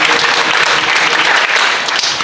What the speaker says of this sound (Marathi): त्याच्याकरता टाळ्या वाजू एकदा.